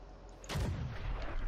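A tank gun firing in World of Tanks, one deep booming shot with a low rumbling tail over a quiet background hum, close and loud, with no talk.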